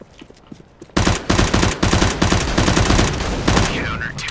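Rapid, loud gunfire in the shooter CS:GO, with a burst of close shotgun and weapon blasts bursting in suddenly after a quiet second and continuing in dense, repeated cracks.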